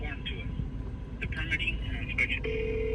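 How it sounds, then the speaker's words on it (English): A telephone rings with an incoming call in a yard setting: several short, bright ring bursts, then a steady electronic tone, heard under ongoing background noise and talk. "Okay, we're getting a phone call."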